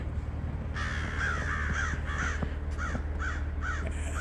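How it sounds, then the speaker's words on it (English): Several crows caw repeatedly, chasing off a Cooper's hawk, harsh calls in irregular bursts, fairly close, over a low steady background rumble. "The crows will chase him away."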